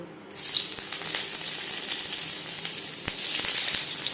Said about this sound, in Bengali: সবার প্রথমেই পনির ভেজে নেব